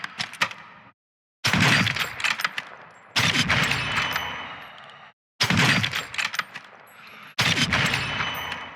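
A customized rifle in the video game DMZ fires in rapid bursts, four loud sustained volleys separated by short silent gaps, each a dense, sharp stream of shots with cracking impacts.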